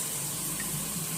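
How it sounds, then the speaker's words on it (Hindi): Plain water poured into a simmering meat curry (daal gosht salan) in a cooking pot, a brief, steady close splashing and trickling that stays even throughout. "मज़ीद इसके अंदर थोड़ा सा सादा पानी ऐड करेंगे"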